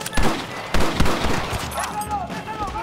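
Several sharp gunshots from Red Dead Redemption crack out over about three seconds, with scattered bursts in a game firefight while someone talks over the action.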